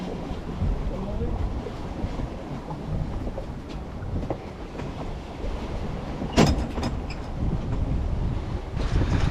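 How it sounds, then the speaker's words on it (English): Wind rises at sea aboard a sailboat off Sitka, making a continuous rushing roar mixed with water and hull noise, with a brief sharp knock partway through. "the wind's picking up and changed direction to the direction that was predicted"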